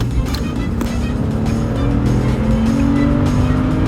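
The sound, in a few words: BMW 5 Series accelerating hard from green light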